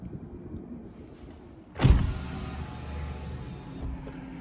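The power window of a 2025 Honda Civic Sport Hybrid runs auto down with a sudden thunk, then a steady motor whir for about two seconds before stopping, close inside the cabin.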